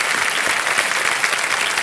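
A studio audience at a television quiz show claps steadily in welcome of a contestant, a dense, even roar of applause filling the room.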